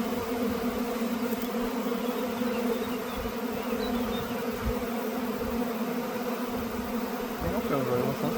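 A honeybee swarm from acacia-season beekeeping hums as a steady, dense drone that stays even and continuous throughout, close and moderately loud, with no voices over it.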